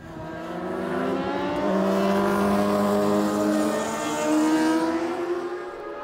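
Racing sidecars, F1 and F2 classes, accelerate hard out of a hairpin corner, engines screaming with rising harmonic pitch that swells and sustains, heard loud from close by with a continuous layered roar and no talk.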